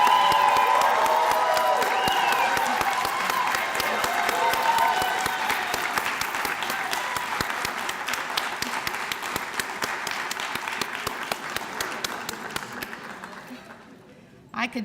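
Sustained audience applause at an educator hall of fame reception, a dense wash of clapping that starts full and slowly thins and fades out over about fifteen seconds.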